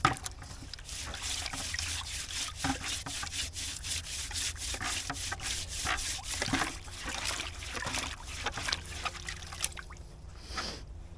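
A thick pan-cleaner scrubber works over a wet sugarcane stalk in quick, rhythmic rasping strokes, close and steady for about ten seconds. The scrubbing pauses briefly near the end, and no voices are heard.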